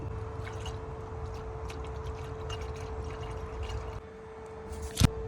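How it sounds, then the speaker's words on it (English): Coolant pours from a bottle into the coolant reservoir of a 2005-2014 V6 Ford Mustang, a quiet, steady trickle under a faint hum, ending with a short clunk. "rate my pouring skills. I fill it to the cold fill line."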